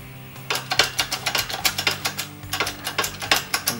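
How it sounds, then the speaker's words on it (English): Wheel studs are pressed into a Ford 9-inch axle flange using a 7/8-inch heavy-duty impact socket as a press jig, giving a close, steady run of rapid, evenly spaced mechanical clicks with no talking. "Pressing my studs on."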